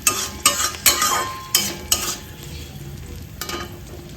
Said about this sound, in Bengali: উচ্ছেগুলো কিন্তু এরকম হালকা হালকা ভেজে নিতে হবে, খুব একটা বেশি কড়া কড়া করে লাল লাল করে ভাজার দরকার নেই।